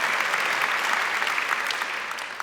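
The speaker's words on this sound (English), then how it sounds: "applause for Shane" Audience applause at a TEDxAmsterdam event, a dense burst of clapping from a sizable crowd, steady and fairly close, tapering slightly toward the end.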